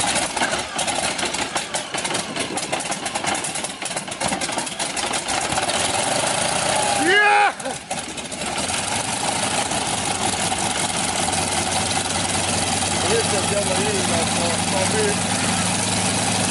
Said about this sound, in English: Its M14P radial engine, a growling symbol of post-war Russian engineering, comes to life.